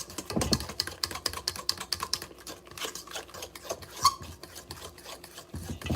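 Cornbread batter stirred by hand in a bowl to work out the lumps, giving a steady scraping, rasping rhythm of repeated strokes close up, with no talking.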